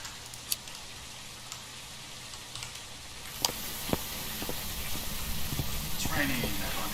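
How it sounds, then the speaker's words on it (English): Rain begins falling in the video game Phasmophobia, a soft steady hiss that swells after a few seconds, with a few faint clicks and knocks scattered through it. "It's raining."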